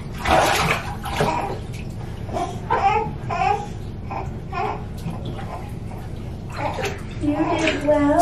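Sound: newborn being washed in bathtub water

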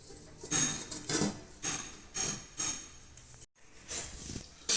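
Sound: lid being placed on pot of boiling potatoes

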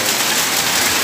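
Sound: heavy rain

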